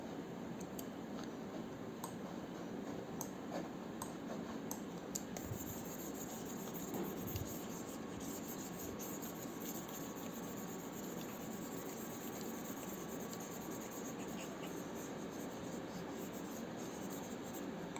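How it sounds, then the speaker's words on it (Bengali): Steady faint rubbing of writing being erased from a board in a math lesson, a soft continuous scrubbing texture under a quiet room hiss, with no talking. "আমি বোর্ড থেকে এগুলো রেজ করে দিচ্ছি।"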